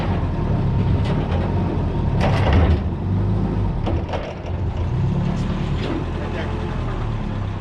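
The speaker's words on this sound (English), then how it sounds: "I asked Mike to use the forklift to spin it around so it was facing" A forklift's engine rumbles and churns steadily nearby as it turns a newly delivered machine around, with intermittent knocks and scrapes and a person talking over the noise.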